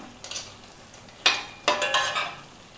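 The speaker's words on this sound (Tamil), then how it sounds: "இதை மிக்ஸ் பண்ணிடலாம் நல்லா." A pan of crab white kurma is stirred, with a few scraping spoon strokes against the metal over a faint simmer, the sharpest scrapes coming in two bursts partway through.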